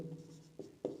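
A pen or chalk writes a math problem by hand, with soft scratching strokes and two sharper taps near the end, faint and close, with no talk.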